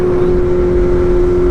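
BMW M1000R Competition motorcycle with a titanium header, mid pipe and slip-on exhaust, holding a loud, steady droning engine note with a constant hum, close by.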